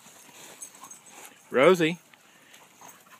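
A dog playing with other dogs lets out one brief, loud whining yelp, with a person speaking softly just before it.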